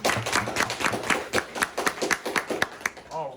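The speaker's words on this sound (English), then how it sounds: "Give her a round of applause." A small group claps in a classroom-style gathering, a brief round of uneven, separate hand claps lasting a few seconds before fading out as someone starts to speak.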